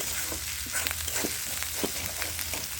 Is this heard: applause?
no